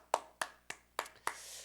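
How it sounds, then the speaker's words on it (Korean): A church youth congregation claps in five sharp, evenly spaced bursts, close and fairly quiet, the last one trailing into a brief smattering of applause. "하나님께 영광 박수 올려드립시다."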